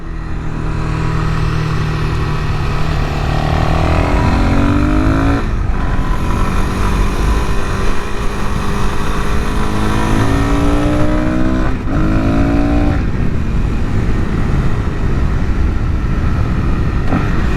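A Suzuki DR-Z400SM engine with a Yoshimura exhaust and modified air box revs loudly and continuously, pitch climbing and dropping through several throttle blips with a raspy, throaty exhaust note.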